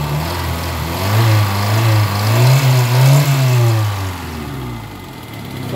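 A Kia Pride engine revs after an XADO engine treatment, rising and falling close up from a steady idle, loud and clear with no talk.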